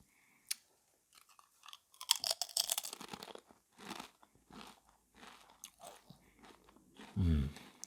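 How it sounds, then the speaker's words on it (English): Pringles Hot Flamin' Cheese potato chips bitten and chewed close to the mic, giving a loud crisp snap and then a run of crunchy chewing bursts with short pauses, plus a low murmur near the end. "So, shall we take a bite with ASMR style? Okay, turn up the volume right now. Let's take a bite."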